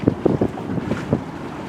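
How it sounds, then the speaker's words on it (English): A single-handed sailboat glides across a lower bay under wind power with no motor running, giving steady wind rush and gentle water sloshing close to the microphone, with a few soft thumps near the start. "You just feel the gentle sloshing of the waves as you're being pushed through the wind, pushed in the water."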